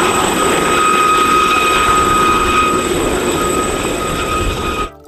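A steady, loud mechanical whir with high whining tones, like a toy helicopter's rotor and motor running continuously, cutting off at the end.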